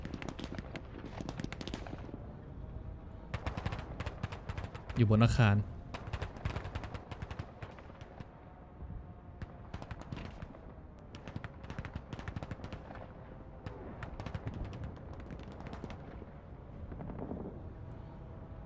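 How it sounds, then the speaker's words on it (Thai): Scattered infantry gunshots and bursts of gunfire crackle throughout in the video game War Thunder, mostly distant, with one loud close blast and someone talking over the action. "เสียงปืนป้อแปะป้อแปะอยู่แถวนี้"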